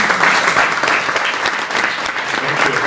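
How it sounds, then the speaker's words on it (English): An audience at a community networking event breaks into a big round of applause, with dense, lively clapping from many hands that carries on without a break. "Jose Luis, let's give a big, big round of applause"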